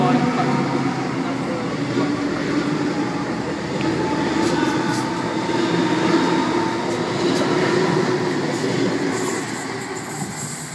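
A Sydney commuter train pulling out of a suburban station, a steady loud rumble of wheels and motors close by, rolling continuously without a break.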